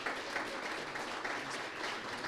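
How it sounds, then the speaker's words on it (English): A workshop audience gives a round of applause for an incoming presenter: soft, steady clapping from a modest crowd, fairly distant and faint, continuing evenly without voices. "Please give him a round of applause"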